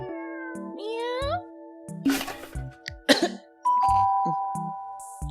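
Coughing bursts out twice, harsh and noisy, among game sounds of cartoonish cat meows, chimes and a sustained tone.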